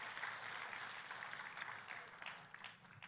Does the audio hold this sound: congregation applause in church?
yes